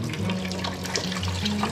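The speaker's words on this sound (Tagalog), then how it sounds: "Yan po yung hugas bigas." Rice washing water poured out during home cooking of adobo with egg, a steady continuous splash and trickle of liquid, fairly loud and close, with no talk over it.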